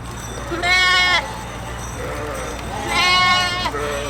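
A large flock of about 3,500 sheep blocks a mountain road near the Venetian border in Valsugana, bleating in two loud bursts of overlapping, wavering calls that rise over a steady outdoor background.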